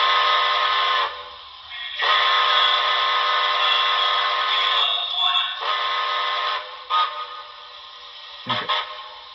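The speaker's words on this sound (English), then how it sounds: "F-22 is a whistle toggle." A BLI HO scale NYC Commodore Vanderbilt Hudson model locomotive sounds its steam whistle in several blasts, a long steady toot, a second long one, then shorter chirps near the end, loud and close with no talk.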